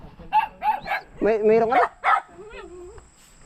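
A tied-up dog on a rural property barks a few times in short bursts, close by, mixed in with people talking.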